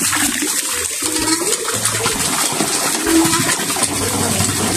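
A strong, steady flow of water rushes and splashes loudly and close for the whole stretch, a dense unbroken gushing with no talk over it.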